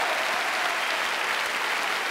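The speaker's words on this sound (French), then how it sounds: "un tonnerre d'applaudissements pour Michel et Justin" A magic show audience applauds two volunteers called up on stage, a steady dense wash of clapping filling the room for a couple of seconds.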